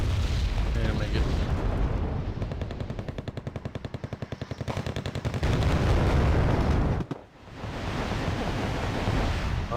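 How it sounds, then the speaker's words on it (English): An artillery counter-barrage in the war strategy game Wargame: Red Dragon brings loud, dense rumbling explosions and rapid rattling fire. The booming keeps on for several seconds, dips briefly, then swells again. "they're counter barraging"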